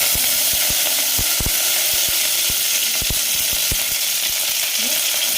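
Mustard seeds and curry leaves sizzling in hot oil for a chana side dish make a loud, steady frying hiss punctuated by scattered sharp pops and crackles, close by, with no one speaking.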